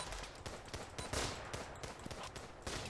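Rapid bursts of inaccurate video game gunfire, a fast rattling stream of close shots with brief gaps, fairly faint overall.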